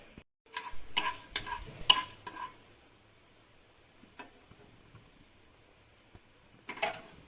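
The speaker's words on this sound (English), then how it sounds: "So you just fry it on low flame." Onion chutney ingredients frying gently on a low flame, with a faint background sizzle broken by clusters of spoon scrapes and taps in the first few seconds and again at the end.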